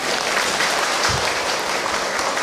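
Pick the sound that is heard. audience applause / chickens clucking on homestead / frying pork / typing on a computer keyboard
audience applause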